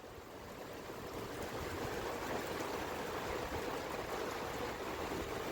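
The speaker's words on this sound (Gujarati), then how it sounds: "એકદમ ફૂલ ધોધમાર વરસાદ ચાલુ થઈ ગયો" Heavy rain pours down steadily during outdoor cooking, a continuous broadband hiss that builds slightly at the start and then holds, fairly quiet and distant-sounding, with no voices.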